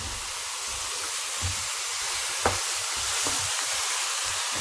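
Beef frying in a pan for a pasta dish with beef ribs, a loud constant hissing sizzle with a few soft pops and stirring sounds, no talking.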